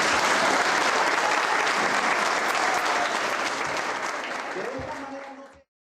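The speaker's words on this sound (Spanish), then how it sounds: "Entonces yo solicito un fuerte aplauso para todos ustedes." A room full of people gives loud, sustained applause at a gathering for an Embera ethnoeducation project in Caldas. The clapping starts dense and strong, then gradually thins and fades to silence.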